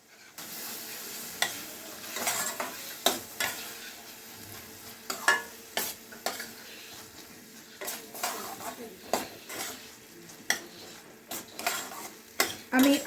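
Water poured into a pan of chicken cooking in ground mustard paste, giving a soft sizzle under repeated clinks and scrapes of a spoon against the pan.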